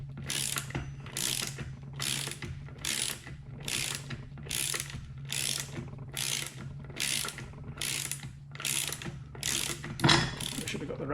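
A ratchet wrench clicks in steady, evenly spaced bursts as it tightens engine bolts to 270 Newton meters on a Ducati Monster 659 during engine reassembly. About a dozen strokes repeat under a low steady hum.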